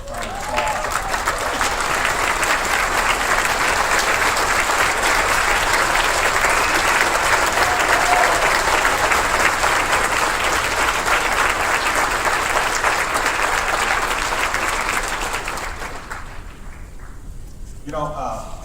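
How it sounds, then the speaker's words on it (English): An indoor audience gives a group who have stood up a long, loud, sustained round of applause, which tapers off near the end. "I think we need to give them a real round of applause."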